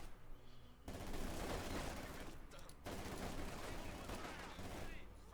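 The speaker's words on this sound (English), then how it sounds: "Machine gun there, still waiting for the smoke to clear up." Automatic gunfire and explosions from a Company of Heroes 2 multiplayer battle, Wehrmacht against Soviets, roaring continuously after a brief quiet start. A commentator talks over the dense, loud fusillade.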